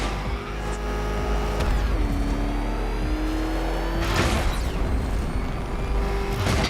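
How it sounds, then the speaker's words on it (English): The Batmobile's engine roars and revs continuously in Batman: Arkham Knight, loud and sustained with rising pitch sweeps and a heavy surge about two-thirds through, with no speech. "There's more to this test than just going vroom,"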